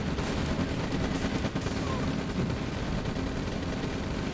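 Dense, continuous barrage of game weapon fire and explosions from artillery in a Red Alert 2 multiplayer match, loud and sustained with no pauses.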